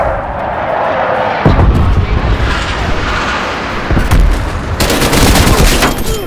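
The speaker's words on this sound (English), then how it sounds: "Hostile artillery targeting active. Artillery down." Loud artillery strike in Call of Duty, a sequence of heavy booming blasts and crackling impacts that roll into one another, close and dense, with rumbling low end and sharp bursts.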